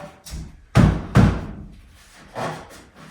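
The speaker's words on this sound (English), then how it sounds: "I can pound on this end a little bit without knocking that offline." Lumber framing being pounded into place with a hammer, two loud close thuds in quick succession, then a softer third knock after a pause.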